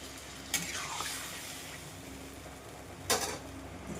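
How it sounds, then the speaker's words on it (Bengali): Water goes into a pan of sautéed pointed gourd and potatoes, two sharp splashing hisses against a quiet background of soft frying and stirring. "এবার জল দিয়ে দেবো।"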